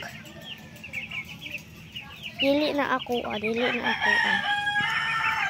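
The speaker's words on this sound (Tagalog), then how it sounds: "Kani kay ako mga manok." Backyard chickens cluck and a rooster crows nearby at a home, the crowing swelling loud in the second half over steady clucking, with someone briefly speaking.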